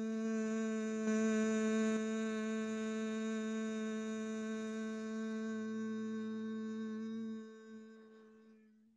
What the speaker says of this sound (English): with lips sealed, you'll hum, sending your voice and the physical vibration of that sound into this area